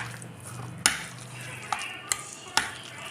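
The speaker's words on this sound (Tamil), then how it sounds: "உருளைக்கிழங்கு, அப்புறமா வந்து வெங்காயம், தக்காளி, பச்சை மிளகாய் போட்டு நல்லா கலந்துக்கோங்க." A spoon stirs potato, onion, tomato and green chilli in a hot pan for an oats omelette, giving a few sharp scraping clinks against the metal over a soft, steady sizzle, close and fairly quiet with no talking.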